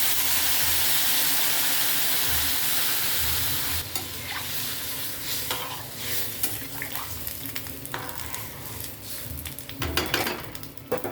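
Water poured into frying spices in a pan for a fish curry with potatoes and cucumber, a loud hissing sizzle that drops as the water goes in, followed by stirring scrapes and bubbling.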